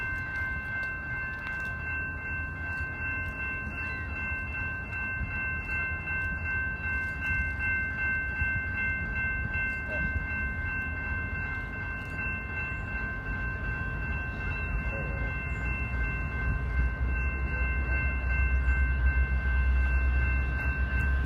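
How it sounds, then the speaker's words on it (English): A train passes through a station, rumbling steadily, the low roar building toward the end, with sustained horn-like tones and faint rail clatter throughout. "the Royal Canadian was passing through the station"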